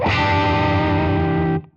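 A single heavily distorted electric guitar chord, a Hendrix chord through a Soldano Super Lead Overdrive Plus pedal, rings out loud and sustained, then is cut off abruptly after about a second and a half.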